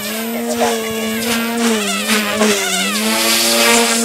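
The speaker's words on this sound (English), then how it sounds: "the tail rotor makes more noise almost than anything" An OMPHobby M2 RC helicopter in flight, its tail rotor giving a steady high-pitched whine that bends slightly with throttle and pitch changes, loud and close throughout, with no talking.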